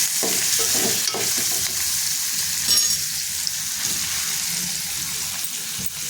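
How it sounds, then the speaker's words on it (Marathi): Spice mixture for a modak fish curry frying in hot oil: a steady, loud sizzle with occasional stirring scrapes, close up. "तेल गरम झालेलं आहे आता हे सर्व मिश्रण मिक्स करून घेतलेलं आहे ना ते आपल्याला ह्याच्यामध्ये टाकून परतून घ्यायचे"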